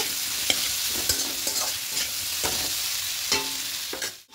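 Ginger, garlic and green chilli paste with ground spices sautéing in a pan for a katla fish curry with taro stems and potato: a steady sizzle broken by repeated spatula scrapes and stirring knocks, cutting off abruptly near the end.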